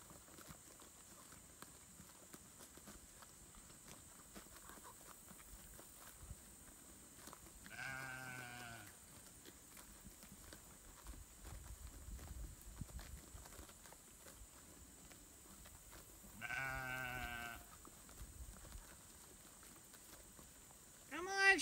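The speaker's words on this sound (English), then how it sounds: "Sheep, come on," Sheep bleating outdoors on a mountain pasture, two distinct wavering bleats spaced well apart, fairly close and clear over a quiet background with faint rustling.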